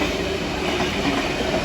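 A Sydney train rolls through Petersham station, producing a loud, continuous rushing rumble with faint rhythmic wheel clatter throughout.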